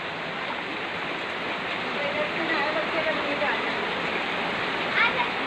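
Heavy rushing water from monsoon flooding in Uttarkashi, Uttarakhand, with water flowing into homes; a dense, steady roar that holds throughout at fairly close range, with no voices.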